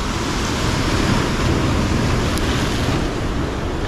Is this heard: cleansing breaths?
no